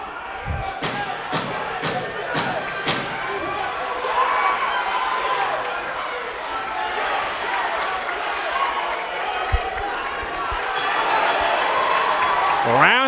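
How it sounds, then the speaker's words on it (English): At a live fight event, a large crowd cheers and chants in rhythm with a series of sharp claps or stomps, forming a roaring, continuous wash of noise under a commentator's voice. "This crowd is making themselves the rhythm section"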